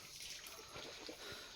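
A natural spring in a village trickles softly and continuously, a faint, even wash of flowing water with no voices over it.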